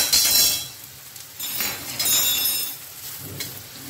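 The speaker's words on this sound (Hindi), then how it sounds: "प्याज को बढ़िया से हम भून लेंगे।" Chopped onions with cumin sizzle in a hot pan over high flame, with short bursts of hissing and faint clinks of a utensil stirring, moderately close.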